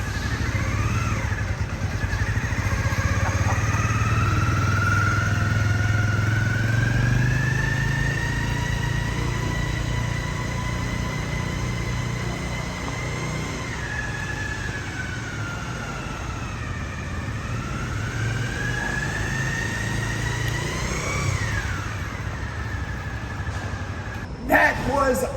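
A Honda Dream 50 motorcycle out on a ride in Indonesia revs its small engine in a close, buzzing whine that climbs and drops through gear changes, steady and loud for the whole stretch with no talking.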